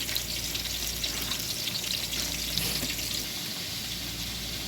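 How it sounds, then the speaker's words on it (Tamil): Onions sauté in a pan for dum biryani, a dense continuous sizzle and hiss close by that stays loud and even throughout. "வெங்காயம் சேர்த்துருக்காங்க, நல்லா வதங்கட்டும்."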